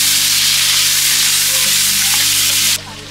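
Onions frying in hot oil produce a loud, dense, hissing sizzle up close, with faint scraping of a spoon. The sizzle drops off sharply near the end.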